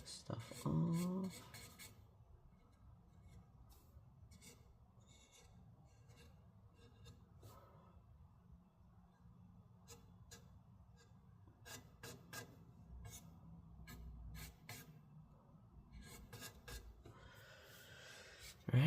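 Old thermal paste being scraped off an ASUS ROG Zephyrus G16 laptop heatsink, a close, soft rasping rub that keeps going in short irregular strokes, with sharper scratchy bursts now and then.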